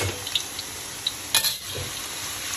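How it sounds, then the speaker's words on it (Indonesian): Onions frying in a pan with ginger for a black beef dish, a soft steady sizzle with a few light scraping stirs of a ladle, fairly quiet and without talk. "So kita goreng bawang dulu, macam kita jadikan dia bawang goreng."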